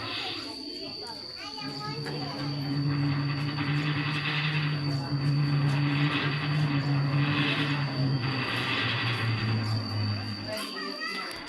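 A voice imitates a helicopter with a continuous fluttering, buzzing drone made with the lips, held for several seconds close up, with children's voices around it.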